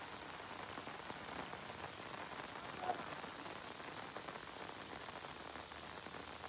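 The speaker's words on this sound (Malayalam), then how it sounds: "ഇവിടെ വന്നപ്പോൾ നല്ല മഴ പെയ്തു" Heavy rain falls steadily in Puthuppally during flooding, a continuous even wash of drops on surfaces heard at a moderate distance, fairly soft and unbroken with one small louder spatter midway.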